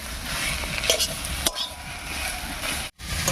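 Cabbage cooking with potatoes in a pan with salt and turmeric, a continuous sizzle with spatula scrapes and stirring knocks, broken by a brief silent gap near the end.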